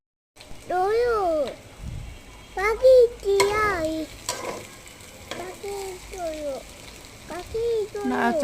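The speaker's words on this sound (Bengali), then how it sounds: "একটু ভাজা ভাজা করতে হবে চালটা" Rice for beef tehari is stirred and fried in hot oil in a pan, giving a steady sizzle and scraping under a person's continuous narration close by.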